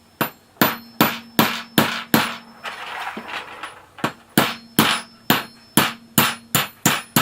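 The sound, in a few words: hammer driving a hardened steel pin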